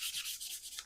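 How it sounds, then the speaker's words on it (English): An old worn sanding sponge rubs down the painted wing surface of a 1/48 Tamiya F-14B model in a few quick, soft, close scratchy strokes, with no talking. "take an old worn down sanding sponge and just give it a quick rub down"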